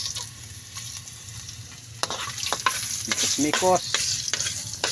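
Fish sautéing with garlic in a pan for a banana blossom dish, a continuous sizzle broken by sharp spatula scrapes and stirring knocks, with a brief spoken word partway through.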